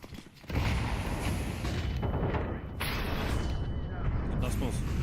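A grenade goes off in a Counter-Strike FACEIT match: a sudden loud burst at about half a second turns into a sustained, noisy rumble, with voices underneath.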